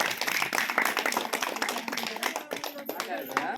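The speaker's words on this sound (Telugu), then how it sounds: "క్లాప్స్ అండి" Audience clapping at a celebration event, steady and fairly close over the full span, mixed with voices and chatter in the room.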